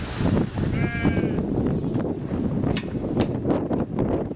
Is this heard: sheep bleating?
yes